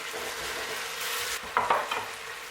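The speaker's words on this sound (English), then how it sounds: "The tomatoes have been frying for some time now. The next thing is to add our onion and keep stirring." Constant crackling sizzle of tomatoes and onions frying in a pan, with a few scraping stirs of a spoon near the end.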